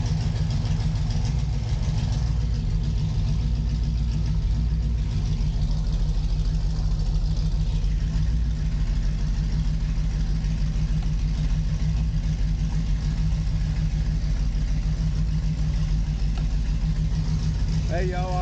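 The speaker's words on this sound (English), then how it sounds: "we hit the gas on the key on this thing, and it starts about every time" A Scion xB idles loudly and steadily close by, a deep constant engine drone with a throbbing low rumble and no change in pace, while someone talks faintly underneath.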